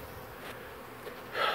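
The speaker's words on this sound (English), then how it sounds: "you can see those bees bringing in a lot of pollen." Honey bees buzz around a hive entrance as foragers return with pollen, a steady mid-pitched drone that grows louder and closer toward the end, with no talking.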